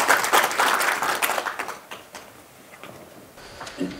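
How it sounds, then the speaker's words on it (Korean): Audience at an inauguration ceremony for a South Korean residents' autonomy council, held at Nonsan Cultural Center, claps in thanks; individual claps stand out loud at first, then thin and fade toward the end. "다시 한번 축사에 고맙다는 박수 한번 부탁드립니다."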